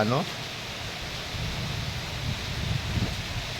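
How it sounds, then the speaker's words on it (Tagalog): Steady rain during typhoon Enting in the Philippines, a broad even hiss of rainfall with moderate wind, fairly soft and constant, with faint low rumbles underneath. "ang hangin ay katamtaman lang, ulan lang po"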